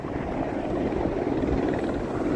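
Steady broadband rotor roar of a helicopter departing in Skagway, a busy day of flights, moderately loud and continuous with no voices.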